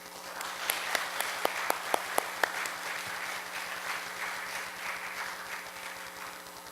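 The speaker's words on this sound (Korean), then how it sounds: "목사님께서 나와서 오실 적에 박수로 환영해 드리면 감사하겠습니다." A church audience at a San Diego Presbyterian service gives soft, fairly distant applause to welcome a retired visiting pastor, a few sharper individual claps standing out near the start.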